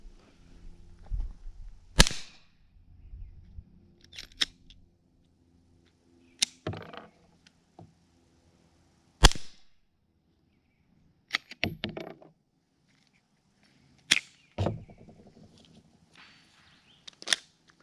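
Subsonic rounds fired through a SilencerCo Octane 45 suppressor make about eight sharp, muffled cracks spaced a second or two apart, each followed by faint clatter and handling noise in a quiet outdoor setting.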